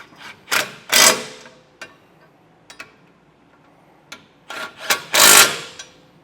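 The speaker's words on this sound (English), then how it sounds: "Now I'll do the same thing to start in our rear bolt." Bolt being started into a Roadmaster Direct-Connect base plate on a vehicle frame, with close metallic scraping, ticking and rasping threads in several short bursts separated by quiet gaps and small clicks.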